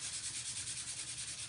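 Dried paint being sanded smooth with a sheet of ordinary paper instead of sandpaper, a steady close rasping rub that repeats in quick even strokes, with no talking.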